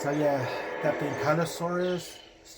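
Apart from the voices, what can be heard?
No everyday noises stand out.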